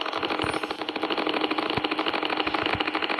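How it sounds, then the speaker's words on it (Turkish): Nearby, a farm tractor's engine runs with a rough, rapid chugging pulse, steady and unbroken with no talking. "Arkadaşlar traktörümüz."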